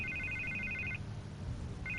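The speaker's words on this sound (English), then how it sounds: "I can't get the phone to stop ringing." A telephone rings in the Telltale Batman video game with a quiet electronic trilling burst that cuts off after about a second and starts again near the end.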